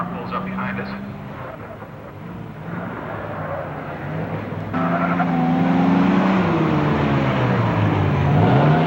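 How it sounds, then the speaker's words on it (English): A vintage race car at an SVRA vintage racing event in the Bahamas pulls up from behind, its engine note rising and swelling louder partway through, with another engine droning underneath. "Zephric's car pulls up behind us."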